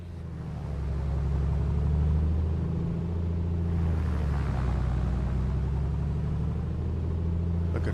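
A Piper PA-24-250 propeller engine in Microsoft Flight Simulator 2024 runs steadily during a run-up and prop check, a low droning rumble that settles into an even hum for several seconds.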